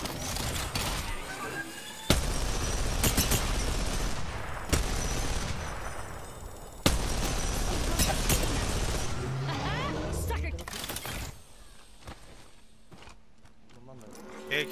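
Gunfire in the video game Apex Legends comes in several loud, sustained bursts with sharp onsets and short pauses between them, and voices talk over the shooting.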